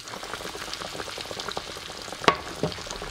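A pork chop sizzles and crackles steadily in a hot pan, with a couple of sharper pops standing out over the continuous frying hiss.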